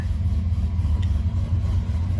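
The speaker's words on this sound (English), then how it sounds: "Fire up the truck" A Ford Ranger pickup truck engine running at a steady, low rumbling idle after starting, close by and fairly loud with no talking.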